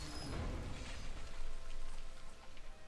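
Rain sound effect from the Nature Rains card in the digital card game Hex: a steady, full-bodied patter of falling rain with a soft low rumble, continuous throughout with no talking.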